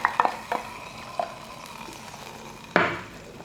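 A spoon scrapes and clatters in a pan of tomato curry just after hot tempering is poured in. There are a few quick stirring knocks, then a sharper scrape, over a soft steady sizzle.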